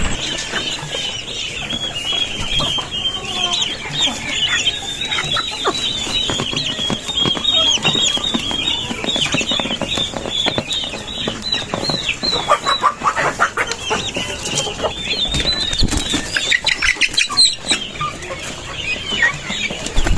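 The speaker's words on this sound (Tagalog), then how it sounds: "ito pa pala pabo at saka manok" Chickens and turkeys sharing one pen cluck at morning feeding time, a busy, close chorus of overlapping clucks and calls with occasional wing flaps, continuous throughout.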